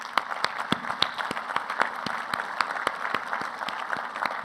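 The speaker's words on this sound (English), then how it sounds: "Let's give those folks a quick round of applause." Audience at a pro bono cancer campaign event giving a brief round of applause, dense crowd clapping with distinct sharp claps from nearby hands, steady throughout.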